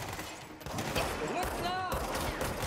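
Gunfire in the video game Control rattles in rapid bursts of close, crackling shots, with a voice speaking over the shooting.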